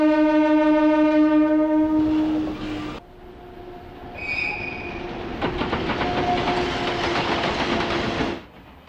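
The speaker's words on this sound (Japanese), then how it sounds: "朝一番の貨物列車が走り出す。" A first-morning freight train starts to run in the PS2 game Blood The Last Vampire. Loud, sustained horn-like tones lead into a rolling, clattering rumble of railcars with a brief high squeal, and no voices.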